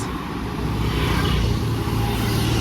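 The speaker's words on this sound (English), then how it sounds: "it's very quiet but noisy because of the cars" Continuous road traffic rumble in a Kigali, Rwanda neighborhood, cars passing nearby with a low engine drone that swells slightly, no talking.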